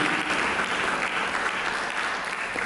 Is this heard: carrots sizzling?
no